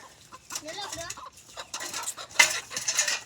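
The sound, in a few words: chicken clucking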